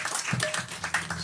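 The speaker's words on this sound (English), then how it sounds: "So I think Mother deserves a big round of applause there." An audience at a Sunday temple program gives a brief round of applause, scattered hand claps at moderate distance, fairly quiet and uneven over about a second.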